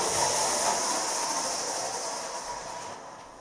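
A model train rumbles steadily along a model railway track with a faint rattling hiss, gradually fading as it moves away.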